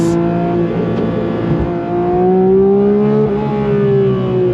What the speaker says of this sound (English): Being able to hold your gear and just let those revs climb.